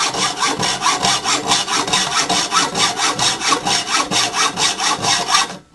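Material with a plastic coating on one side is hand-cut for a homemade HHO generator, giving a steady rhythmic rasp of back-and-forth sawing strokes, close and fairly loud, with no talking.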